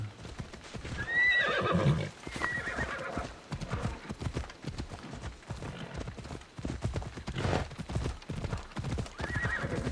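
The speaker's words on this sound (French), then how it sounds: "Il est où mon putain de cheval, Michel?" A horse in Assassin's Creed Odyssey gallops with steady, rapid clip-clop hoofbeats and lets out a shrill whinny near the start, the hooves carrying on throughout over a faint background.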